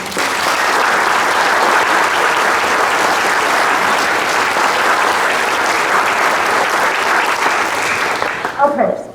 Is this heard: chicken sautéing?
no